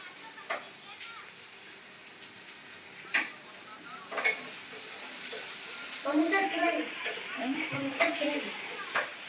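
Chopped onion roasting and sizzling in a pan with steady stirring and occasional scrapes, a soft continuous fry close by, while someone talks over it.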